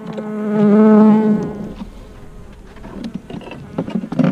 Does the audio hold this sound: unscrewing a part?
no